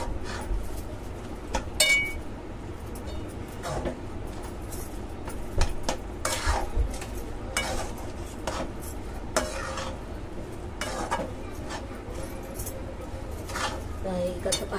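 Modak filling being stirred and sautéed in a pan, with a spoon scraping and clinking against the metal in a steady run of strokes. Talk continues underneath.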